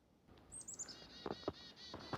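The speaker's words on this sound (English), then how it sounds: "Spring's around the corner. Birds are out here today." Birds call on a winter mountain hike in the Sandwich Range Wilderness, a few thin high chirps and short trilling notes, faint and fairly distant, with soft footsteps or rustling nearby.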